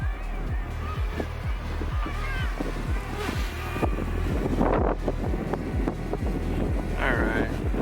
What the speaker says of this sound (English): Sorry, I know it's really windy.